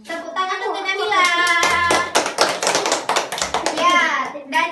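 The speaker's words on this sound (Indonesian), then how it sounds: "Tepuk tangan untuk Nabila." Classmates clap for a student in a fifth-grade classroom, a burst of close, uneven hand claps mixed with children's voices and chatter.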